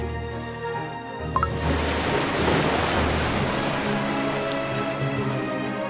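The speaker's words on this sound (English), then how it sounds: "The waves are rising." Rising sea waves in the Cookie Run Kingdom video game, a steady broadband rush of surf that swells after a brief quieter opening and continues loud without speech.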